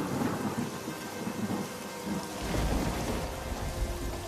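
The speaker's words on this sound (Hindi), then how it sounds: "और बारिश शुरू हो गई।" Heavy rain pours down steadily with rumbling thunder during a storm, a loud continuous wash of rainfall with a deeper thunder roll building in the second half, no voices present.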